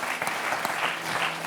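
Studio audience applauding on a French TV talk show, a steady dense clapping that fills the short moment without any voices.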